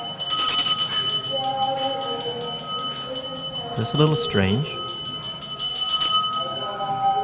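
A temple bell rings with a bright, sustained metallic ring whose overtones linger and decay over several seconds, while a person speaks briefly over it.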